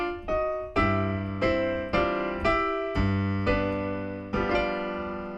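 Piano left-hand accompaniment from Scott Joplin's ragtime piece The Entertainer: a steady alternating pattern of sustained bass notes and chords, struck about every half second, rich and close with no voices.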